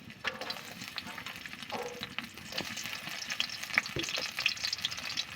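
Chopped garlic frying in hot oil in a heated pan, a steady close sizzle with crackling pops and occasional utensil scrapes, no talking.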